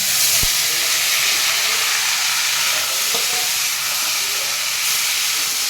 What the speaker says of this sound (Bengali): এবারে আমি ধুয়ে রাখা জল ঝরিয়ে রাখা চালটা দিয়ে দিচ্ছি।